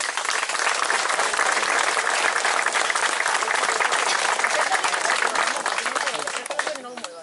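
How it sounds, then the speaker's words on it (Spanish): Sustained audience applause from a crowd at a Spanish talk or ceremony, dense and steady clapping for about seven seconds before it thins out at the end. "Un aplauso, por favor."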